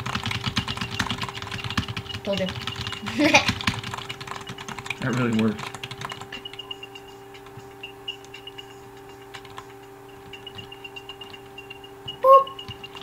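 Keyboard keys are pressed rapidly in a quick clatter while playing a stick figure badminton computer game, with voices talking briefly over it before the typing settles into quieter intermittent taps.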